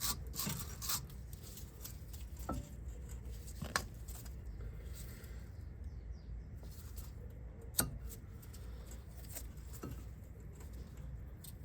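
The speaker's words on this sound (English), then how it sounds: "we can take a wire brush and brush this one out" A wire brush scrubs out a front brake caliper on an Opel/Vauxhall Astra G during a pad replacement: steady, fairly quiet scratchy rasping that runs throughout, broken by a few sharp metallic clicks, with no talking.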